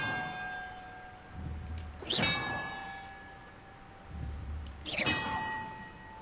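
Two bell strikes in Hogwarts Legacy, each a bright metallic ding with a long ringing tone, about three seconds apart, clear and fairly close over a quiet ambient background.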